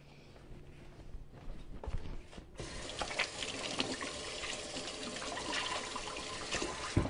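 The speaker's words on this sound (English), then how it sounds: "So I'm just going to rinse my hands again." Hands are rinsed under a running kitchen tap while preparing a French potato salad, first faint handling sounds and then a steady, close splash of flowing water for several seconds.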